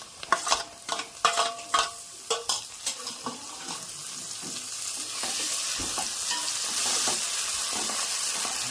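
Tomatoes tipped into a hot pan for prawn biryani and stirred: a run of close clattering spoon scrapes, then a steady, loud sizzle that carries on alone.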